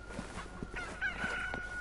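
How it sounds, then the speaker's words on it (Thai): Chickens at an outdoor market in the video game Resident Evil 6 cluck and crow in short, repeated calls that stay fairly close and distinct over a steady background ambience. "มีไก่เพียบเลยนะ"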